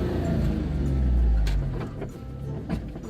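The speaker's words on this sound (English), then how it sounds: "I am gonna drive right into the field" A four-wheel-drive vehicle drives into a field, a loud low engine rumble swelling then easing, with bumps and rattles of rough ground over the last part.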